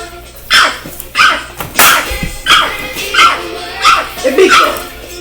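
A person imitates a big dog, giving a rapid series of about seven loud, throaty bark-like yelps close to the mic, evenly spaced with short gaps between them.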